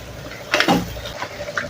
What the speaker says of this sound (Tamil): இப்போ நம்ம புளி தண்ணி ஊத்திக்கலாம்